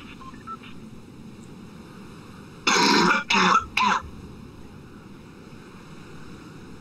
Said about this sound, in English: I think my cat heard you cough.